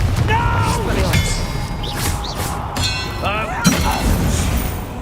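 A Confringo blasting spell explodes in the game Hogwarts Legacy, with booming impacts and crackling magical whooshes over a dense, busy battle soundscape.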